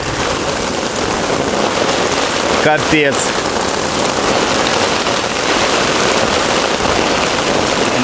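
Heavy spring rain falls during a thunderstorm by a pond, a loud, dense hiss that fills the whole stretch, with a brief voice breaking in partway.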